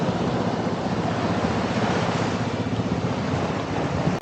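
Sea waves at high tide along the shore at Bolinao, Pangasinan roll in as a continuous, loud surf wash with wind buffeting the microphone, and no voices are heard.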